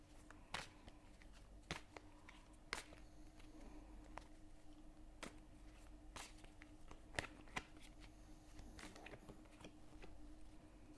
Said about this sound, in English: So let's give the cards a shuffle.